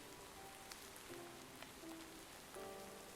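Steady rain falls in Minecraft, in the Enigmatica 2 Expert modpack, as a soft, even patter of drops that is faint and continuous, with a few brief tonal blips and no talk.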